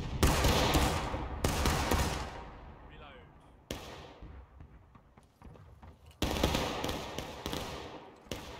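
A company of muskets in the War of Rights Civil War game fires in ragged volleys, several loud crackling bursts spaced a few seconds apart, each trailing off into an echoing rumble.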